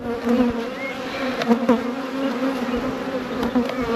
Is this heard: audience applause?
no